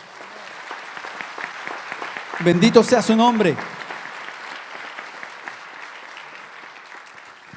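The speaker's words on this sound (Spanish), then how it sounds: "Dale un fuerte aplauso al Señor." Applause from a church congregation swelling over a low hum of voices, a dense burst of clapping about a second long with a voice speaking over it, then fading back to murmur.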